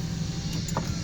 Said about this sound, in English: Both window regulators seem to work just fine. Down and up.